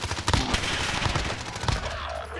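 Gunfire in the shooter game Warzone rattles out as dense, rapid automatic bursts that run almost without a break, loud and close, mixed with a busy game soundscape.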